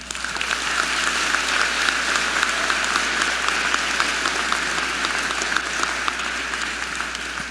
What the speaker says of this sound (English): An applaud for all.